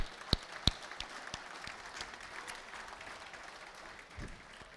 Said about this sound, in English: a round of applause for all our award winners tonight